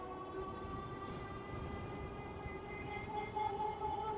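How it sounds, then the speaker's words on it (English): The motor of an Aventon Level 3 e-bike climbs in pitch under throttle on a big hill, a steady tonal whine with harmonics over road rumble, rising slightly toward the end. "Put it on the throttle and see what we get up to."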